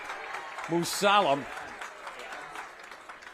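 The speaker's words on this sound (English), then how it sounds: "you hear the applause because there's a penalty flag that came down well after the play" Applause ripples through the stands at a Waunakee at Muskego high school football game after a late penalty flag, a steady broadband wash running beneath a commentator's voice.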